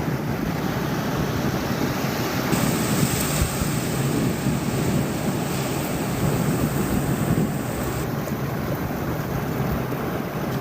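Ocean waves washing onto a beach at sunrise, a continuous broad rush heavily mixed with wind buffeting the microphone, steady and loud throughout with no talking.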